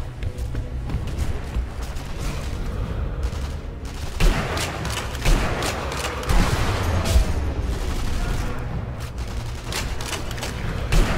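Gunfire rattles through a Sniper Elite V2 firefight, with dense bursts of shots and a few sharper loud reports standing out over a continuous, steady barrage.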